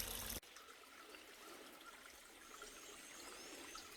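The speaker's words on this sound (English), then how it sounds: "Just another little river." A small stream trickles along the Appalachian Trail, a faint, steady babble of running water that continues unbroken after a short, sharp burst of noise at the start.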